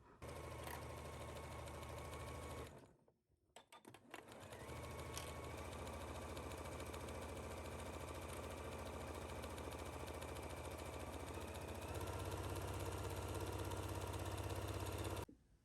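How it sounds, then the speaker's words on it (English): Sewing machine stitching the inner leg seam of a jumpsuit at a 5/8 seam allowance, with a steady close mechanical whir that pauses briefly near the start and then runs continuously, alone. "we are going to stitch this down at 5/8 at our machine"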